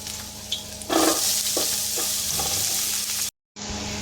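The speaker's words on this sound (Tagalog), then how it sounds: "igigisa ko muna yung ating ulo ng hipon. Saka yung balat para mas malasa siya." Shrimp heads and shells sauté in a hot pan with a steady, bright sizzle and occasional stirring bursts, cutting off abruptly for a moment before the frying hiss resumes.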